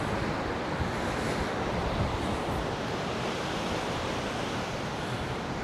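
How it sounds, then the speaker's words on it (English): Rough sea waves surge and crash steadily beside Blackpool South Pier on a gusty day, a loud continuous roar of surf mixed with wind buffeting the microphone, with no voices. "Let's have a look at the sea. Pretty rough today."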